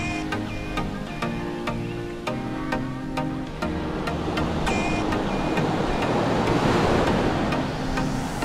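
Surf rolls onto the beach at Pantai Tanjung, Langkawi, a steady wash of waves building louder toward the end, with faint music and wind mixed in and no one speaking.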